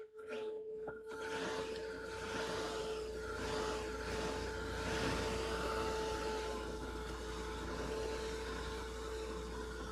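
A hair dryer blows steadily to dry a watercolour painting, a loud continuous whooshing hum with a steady motor whine, running alone for about ten seconds after switching on.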